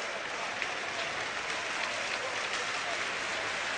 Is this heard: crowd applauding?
yes